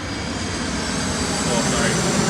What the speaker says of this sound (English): So sorry if there's a plane overhead every once in a while